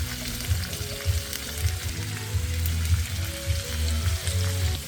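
Mixed vegetables and purple cabbage sizzle in oil over lowered heat, a steady close frying hiss with faint stirring bumps and no talking.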